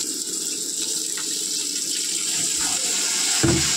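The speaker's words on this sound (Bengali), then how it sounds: "এবারে আমি সামান্য জল দেবো, বেশি দেবো না, গামাখাই করবো, গ্রেভি" Water poured into a cooking pan of frying gravy, a steady broadband hiss and rush that holds for a few seconds and ends in a brief bubbling splash near the close.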